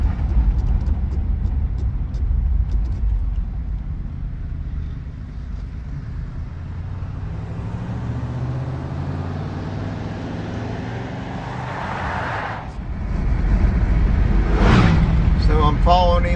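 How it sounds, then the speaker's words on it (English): A 1982 Dodge Ramcharger truck drives along a road, its engine a steady low rumble with road and wind noise that swells louder toward the end, heard from a following vehicle. "that truck is running good"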